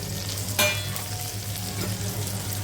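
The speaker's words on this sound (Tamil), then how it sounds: "இப்போ இது எல்லாத்தையும் ஒன்றா சேர்ந்து நல்லா வதக்கிட்டு" Tomato, cashew, ginger and garlic sauté in a pan for a paneer butter masala, a continuous close frying hiss with occasional stirring scrapes and a low steady hum underneath.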